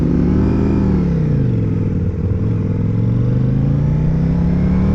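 A Ducati Diavel V4 motorcycle engine rumbles loud and close, with a steady deep throb that drops in pitch, then slowly rises again as revs build, continuous and free of talk.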